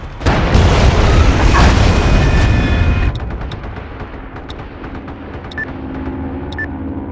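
Heavy gunfire and booming explosions from the online war game MAG during a platoon attack, loud and dense for the first three seconds, then sparser scattered shots and distant blasts.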